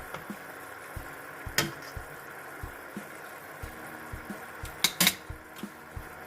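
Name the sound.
stirring green curry with shrimp in a pot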